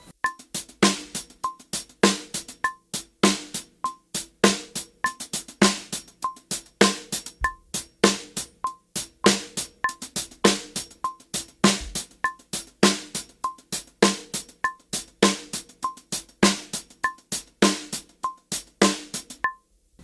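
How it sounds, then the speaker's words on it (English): A drum kit plays a steady sixteenth-note house groove with accents falling on the offbeats, crisp regular hits repeating evenly throughout, close and fairly loud with no talking. "we're basically playing just a standard 16th note groove, but we're doing the accents on the offbeats."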